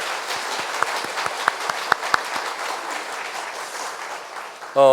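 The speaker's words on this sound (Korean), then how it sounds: "함께 큰 박수로 환영하겠습니다" A church congregation at a Sunday service applauds to welcome a missionary couple serving in Cambodia: steady, moderately distant clapping from a crowd, with a few sharper individual claps standing out, before a voice starts speaking at the end.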